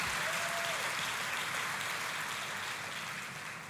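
Church congregation applauding during a sermon, a dense, steady round of clapping from a large crowd that slowly fades toward the end.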